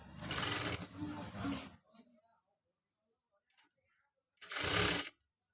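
Sewing machine stitching a cross strip onto a katori blouse front, two loud bursts of machine running, a long one at the start and a short one near the end, with a quiet pause between.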